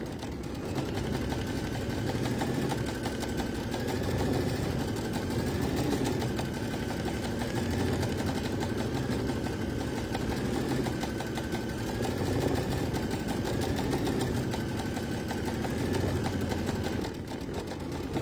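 An embroidery machine stitches a satin stitch on a Valentine swirl coaster, giving a steady, loud, fast mechanical whirring and clatter that runs evenly without pause and rises and falls only slightly in pitch, with no voices.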